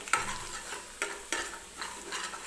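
Semolina stirred into melted ghee in a pan for moong dal halwa, a steady soft sizzle broken by three or four sharp scraping strokes of the spoon, close and fairly quiet.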